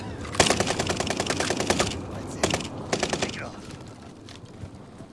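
Rapid automatic gunfire in Call of Duty Warzone on Fortune's Keep, fired through a wall in several quick bursts, with a player talking over the shots.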